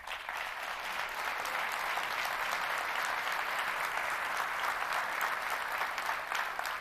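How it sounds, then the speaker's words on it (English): An audience at the 2016 Oakland County State of the County Address applauds a welcomed official, a dense, steady wash of many hands clapping that holds evenly for several seconds without talk. "Please give a welcoming round of applause to Wayne County Executive Warren Evans"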